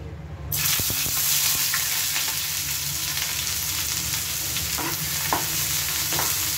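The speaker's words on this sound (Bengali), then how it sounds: "এবার এই তেলের মধ্যে দিয়ে দেবো আমি পেঁয়াজ।" Onions dropped into hot oil burst into a loud sizzle after a short quiet start, then keep crackling steadily, with occasional utensil clicks and stirring scrapes.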